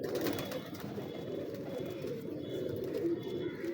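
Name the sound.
pigeons cooing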